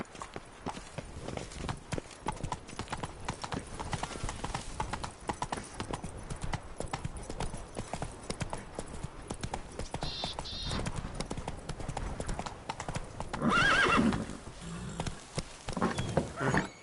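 Rapid hoofbeats from a galloping horse in The Witcher 3: Blood and Wine pound in a steady, driving rhythm, close up throughout, with a brief snort or whinny near the end and light game ambience behind.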